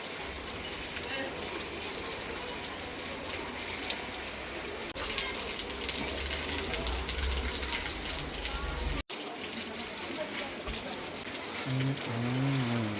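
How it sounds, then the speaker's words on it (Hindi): Heavy rain pours down outside, a dense continuous hiss of falling water drumming on surfaces, with steady low rumble and people talking partway through. "बाहर तो बारिश लगी हुई है,"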